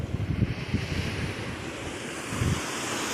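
Sea waves wash steadily onto Pentha beach, a constant close roar of surf with wind buffeting the microphone and a few heavier breakers swelling through it, with no voices.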